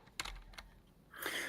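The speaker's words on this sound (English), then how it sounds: "So while Deshaun's typing there" Brief bursts of typing on a computer keyboard, a few quiet clustered keystroke clicks followed by a louder rattling flurry near the end, close and isolated.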